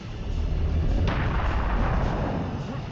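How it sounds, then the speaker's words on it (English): A biomech enemy fires a rocket in Serious Sam: The First Encounter, a sudden heavy booming blast with a deep rumbling roar that sustains and slowly fades, loud and close. "Already shot his rocket."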